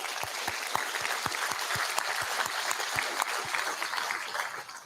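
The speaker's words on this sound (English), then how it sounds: "I want to give them a round of applause." Sustained applause from an audience at a city's State of the City address, steady dense clapping with a few louder individual claps standing out, carrying through the whole stretch without talk.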